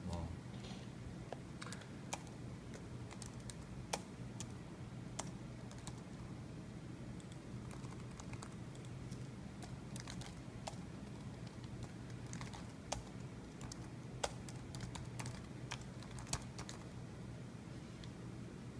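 Fingers typing on a computer keyboard, quiet irregular key clicks scattered through a steady room hum, with a voice speaking over the tapping.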